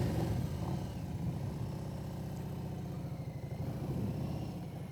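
A motorcycle engine running steadily, a continuous low rumbling drone held at an even, moderate level with a slight rhythmic flutter and no talk.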